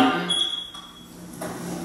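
A household smoke detector is tested, giving short piercing electronic beeps, fairly faint and brief, alone without talk.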